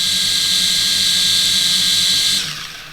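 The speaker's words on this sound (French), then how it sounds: "Les moteurs s'arment et les hélices tournent." LOOLINN X23W drone motors and propellers spin up in a steady, loud high-pitched whine, close by, which drops off sharply near the end as the motors stop on their own.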